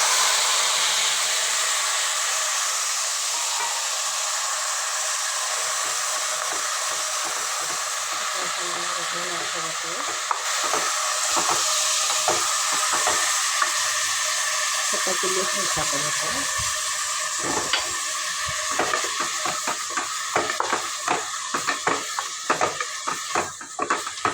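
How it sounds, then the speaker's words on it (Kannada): Spices, onion, tomato and curry leaves fry in hot oil with stirring in a home kitchen, a steady close hiss that turns into crackling and scraping clicks toward the end, with a voice speaking over it. "ಲವಂಗ ಹಾಕ್ಕೊತಿದ್ದೀನಿ ಎಲ್ಲ ಸಿಡಿದ್ಮೇಲೆ ಕೊತ್ತಂಬರಿ ಸೊಪ್ಪು ಈರುಳ್ಳಿ ಟೊಮೊಟೊ ಕರ್ಬೇವಿನ ಸೊಪ್ಪು"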